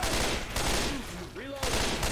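Gunfire in the Left 4 Dead 2 video game, a dense run of rapid shots that pauses briefly midway and resumes, with other game effects mixed in underneath.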